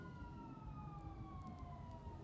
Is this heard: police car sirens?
yes